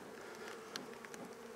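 Honeybees kept in a chicken coop buzz in their hive beneath a burlap inner cover, a faint, continuous, close-up hum of many wings with a few slightly louder passes.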